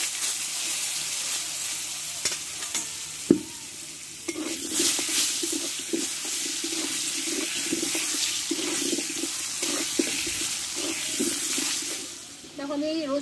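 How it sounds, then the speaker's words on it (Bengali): Potatoes sizzle in hot mustard oil with salt and turmeric while being stirred, a close, steady frying hiss broken by scraping and knocks from the utensil, with a little talk in the background. "এই তেলে একটু লবণ দিয়ে দেবো, আর দেবো একটু হলুদ গুঁড়ো, দিয়ে আলুগুলোকে আমি কষে নেব"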